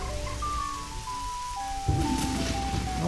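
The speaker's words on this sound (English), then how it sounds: "it always rains on the second day." Rain falls in the Majora's Mask video game as a steady hiss beneath musical game tones, growing louder and denser partway through.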